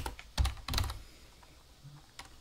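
Someone types a Python command on a computer keyboard in a few quick clustered keystrokes that are close and fairly soft, then pauses.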